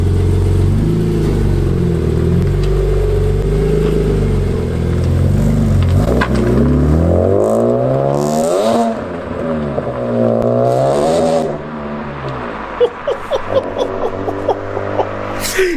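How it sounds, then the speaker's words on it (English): A BMW M3 CSL (E46) engine revs loudly up close with rising and falling harmonics, easing off and then giving several sharp throttle blips near the end, with no voices. "Even just that little blip, you can hear the car."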